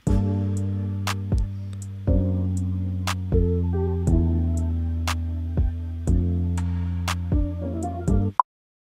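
A type beat plays alone: a soft sustained finger bass and melody under crisp ticking percussion hits roughly every second, steady and full until an abrupt stop near the end.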